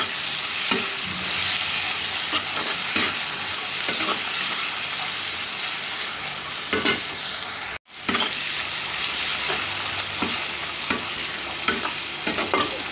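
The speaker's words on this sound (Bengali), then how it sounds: "এখন দিয়ে দিলাম কয়েকটা চিংড়ি মাছ।" Shrimp sizzle in a pan of oil with cumin and coriander powder, a steady close crackle and hiss with occasional stirring scrapes, one short pause partway through, and no talk.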